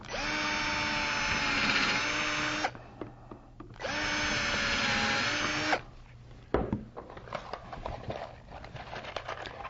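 A power drill driving #8 by 1.25-inch screws into wooden fence pieces on a router dado jig, two long steady whirring bursts in close succession, followed by shorter clicks and handling noises.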